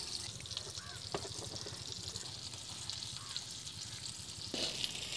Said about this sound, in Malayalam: അപ്പോൾ നമ്മുടെ കരിമീൻ മൊത്തം നമ്മൾ ഇത് വറുത്ത് കഴിഞ്ഞിട്ടുണ്ട്